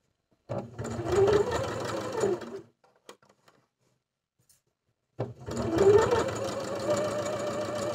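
A sewing machine stitches the lining of a honey bucket bag in two loud, steady runs, stopping for a few seconds of near silence with faint handling clicks in between.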